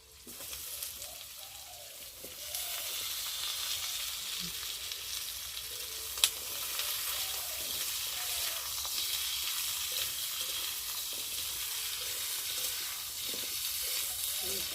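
Potatoes and raw plantain fry in a pan, giving a steady, soft sizzling hiss throughout, with a single brief metallic click partway through and no talking.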